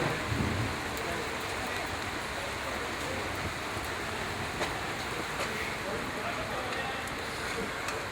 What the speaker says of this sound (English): Yeah, it kind of rained.